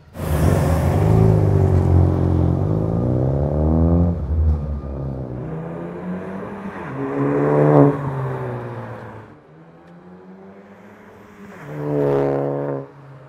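A manual BMW Z4 M sports car engine revs loudly and close up, in several rising and falling surges with a strong low rumble, easing to idle between pulls and then blipping again.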